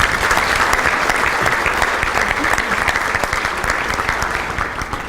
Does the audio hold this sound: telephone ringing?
no